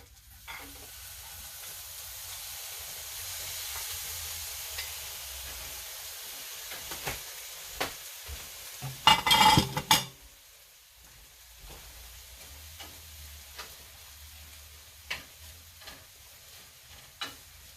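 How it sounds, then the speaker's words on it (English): Shrimp sizzling in a frying pan over raised heat, a soft steady hiss with scattered pops and a brief louder burst of clatter or stirring partway through. "we're going to take our shrimpity shrimps here. Turn the pan up just a little bit"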